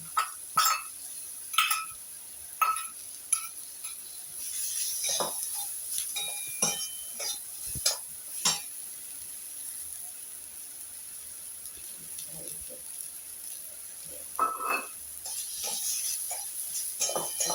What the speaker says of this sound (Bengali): এবার দিচ্ছি আমি পেঁয়াজ, দিচ্ছি রসুন